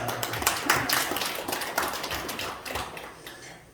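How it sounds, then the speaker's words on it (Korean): Church congregation applauding during a Palm Sunday service: a brief round of scattered, moderately loud clapping that thins out and fades by the end. "박수 한번 드리겠습니다"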